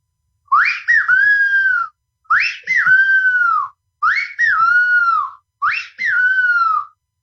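A hunting bird-call whistle mimics a bem-te-vi: four loud, evenly spaced two-part phrases, each a sharp chirp followed by a sustained falling whistle, heard alone.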